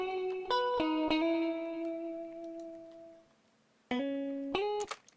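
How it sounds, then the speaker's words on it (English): Crunchy lead electric guitar through amp simulator effects, a few picked notes ringing out with distortion and reverb, a pause of near silence, then a couple more bright notes. "I also prepared a little lead guitar for the intro, which should also be a bit crunchy."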